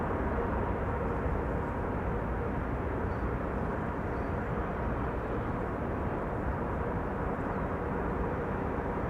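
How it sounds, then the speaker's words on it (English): An airliner landing at Amsterdam Schiphol runs its thrust reversers, making a continuous broad, faint roar that holds steady without a clear rise or fall. "Still using the reversers."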